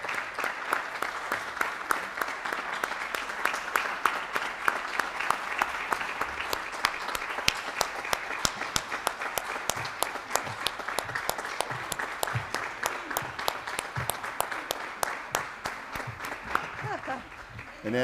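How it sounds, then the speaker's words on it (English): Sustained applause from an audience at a board of education meeting, steady dense clapping lasting the whole stretch at a moderate distance, with a few voices murmuring underneath as it tapers near the end. "Let's give her a big round of applause."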